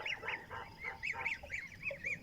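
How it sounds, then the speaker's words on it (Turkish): Young goslings honking in a series of short, regular calls, close and moderately quiet, with no other sounds. "Bunlar yavru kazlarım."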